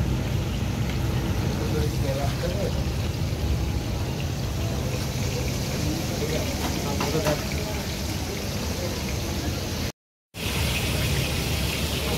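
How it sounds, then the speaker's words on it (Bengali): Hilsa fish sizzle in hot oil at a late-night food stall on Mawa Ghat by the Padma river, a steady crackling hiss like rain mixed with street bustle and a brief dropout. "আমাদের ইলিশ মাছ ভাজাগুলো"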